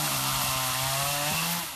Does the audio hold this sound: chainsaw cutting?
yes